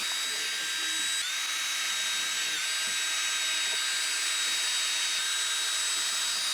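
Power drill pre-drilling holes in wood for a holiday star, a steady high-pitched whine running continuously and loudly with slight pitch shifts throughout.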